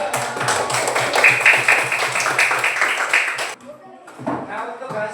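A classroom group claps for a presenting team: about three and a half seconds of dense, steady applause from many hands, then a sudden drop to quieter room sound and brief talk.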